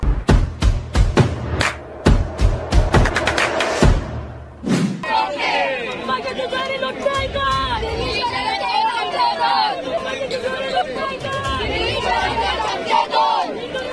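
A crowd of tourists gathers at the overflowing Bhushi dam. A few sharp thumps open the scene, then a steady, dense hubbub of many voices and chatter carries on close by.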